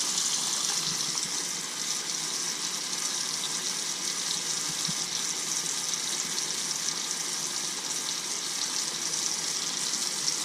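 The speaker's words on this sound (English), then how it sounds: "And then just some regular old tap water." Tap water runs steadily into a container holding coins and dish soap, a constant close hissing gush of filling liquid with no voices.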